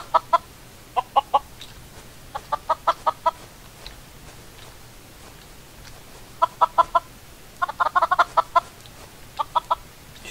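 Minecraft chickens clucking in short, evenly spaced bursts of three to five clucks, repeating several times across the stretch, close and clear over a quiet low game hum, with no talking.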